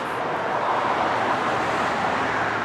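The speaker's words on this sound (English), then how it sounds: "This is a very busy road with another road or two connecting, and traffic is bad." Steady roar of heavy traffic on a busy road near a roadside cemetery, a continuous broadband rush of passing cars, loud and unbroken throughout, with no talking.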